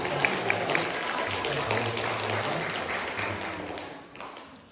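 A church congregation applauds to welcome a first-time visitor at Sunday worship, a steady patter of clapping that fades out near the end, with a low voice underneath.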